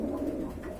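Lakka pigeons coo in a low, soft, throaty burble close by, a brief continuous murmur with no talk over it.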